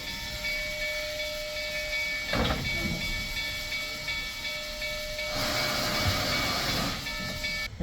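Loud hissing steam bursts from the 1880 Train's steam locomotive in the Black Hills of South Dakota, one around the middle and a longer one near the end, over a steady whistle-like tone and rumble.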